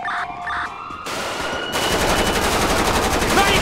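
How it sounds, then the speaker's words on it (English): Sustained machine gun fire from a minigun mounted on a car in the video game GTA 5, a loud, rapid, continuous burst after a few short electronic tones, with no pause. "Alpha 1 and Boone got the fucking machine gun car"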